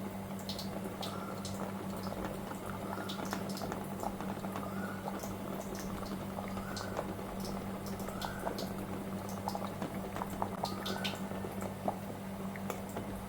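Water simmers in a kadai, holding a bowl of oil warming over it, a steady close bubbling with scattered pops and drips above a low constant hum, no talk.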